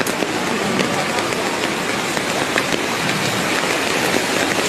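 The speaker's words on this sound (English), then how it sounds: "a massive cloudburst unleashes a torrent of rain over the distant valley" Torrential cloudburst rain pours over a distant valley in Ramban, Jammu and Kashmir, a dense, loud, unbroken hiss of heavy downpour filling the whole clip.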